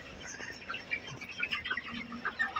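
Broiler chickens about 29 days old clucking on a poultry farm, a scattered flock of soft, overlapping clucks and chirps at moderate distance with no one speaking.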